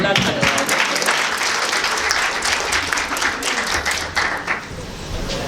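An audience at a talk breaks into steady, dense clapping that fills the room, fairly loud and continuous, easing slightly near the end.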